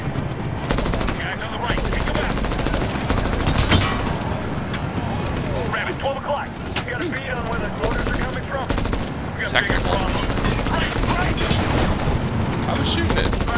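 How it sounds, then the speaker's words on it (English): Dense, loud gunfire from the 2010 Medal of Honor video game: rapid machine-gun bursts and overlapping shots rattle almost continuously, with chaotic battle noise and voices talking over it. "I was shooting it."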